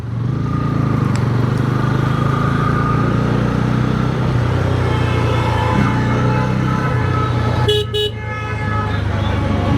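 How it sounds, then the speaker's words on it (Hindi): A Bajaj Pulsar N160 motorcycle rides on busy real roads in Ayodhya, its steady low exhaust drone running throughout beneath surrounding traffic noise, with car and bike horns tooting briefly near the start and again just before the end. "लेकिन एग्जॉस्ट नोट इस बाइक का बहुत प्यारा है।"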